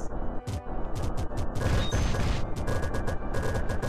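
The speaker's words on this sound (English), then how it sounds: "The flamethrower is kind of cool." Continuous roaring weapon fire from a flamethrower in the Kitten Squad video game, a dense, loud crackling blast punctuated by repeated sharp bursts, with no talking.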